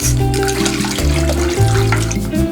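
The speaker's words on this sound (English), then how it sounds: "Adding water" Water runs steadily from a tap in a full, continuous gush, close by and fairly loud, with no voices.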